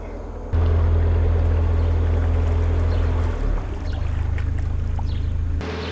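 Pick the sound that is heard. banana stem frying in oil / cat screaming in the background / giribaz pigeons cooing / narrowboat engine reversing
narrowboat engine reversing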